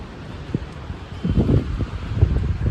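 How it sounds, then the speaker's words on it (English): Gusty wind buffets the microphone in low rumbling bursts, growing stronger halfway through and staying rough to the end. "It's really windy today"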